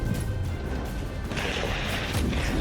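Explosions and crashing blasts along the Russia-Ukraine war border, a dense, loud, continuous rumble of impacts and bursts with no voices.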